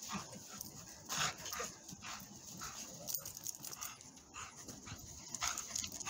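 A golden retriever gives soft, high whimpers and yips in several short bursts over steady background noise, with no talking.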